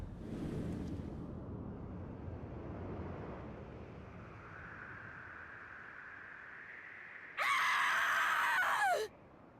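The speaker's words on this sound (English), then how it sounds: "What a scream." A shrill scream bursts out near the end of a Final Fantasy XIV cutscene, loud and brief above a low rumbling, windy ambience.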